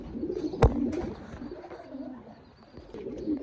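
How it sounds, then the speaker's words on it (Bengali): Black potter and white beauty homer male pigeons cooing nearby, low soft coos under a faint background murmur, with one sharp knock near the start. "দর্শক এখানে দেখতেছেন দুই পিস কবুতর একটা হচ্ছে ব্ল্যাক পটার নর আর একটা হচ্ছে হোয়াইট বিউটিওমা নর"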